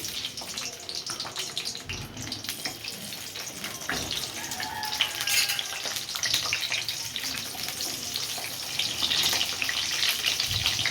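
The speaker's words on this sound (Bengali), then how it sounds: "পটলটা আমি দিয়ে দিচ্ছি, তেল গরম হয়ে গেছে।" Pointed gourd pieces fry in hot oil, a steady crackling sizzle running through the whole stretch, close and fairly loud with occasional louder bursts of spitting and no talk.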